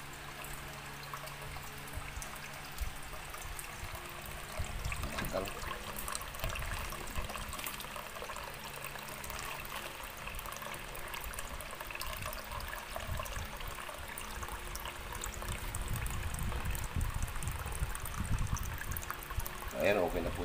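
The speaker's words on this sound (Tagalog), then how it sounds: "Ayan, nalagay muna ako ng tubig." Water is poured into a small cooking pot, a continuous rushing, splashing pour that swells toward the end, with voices speaking in the background.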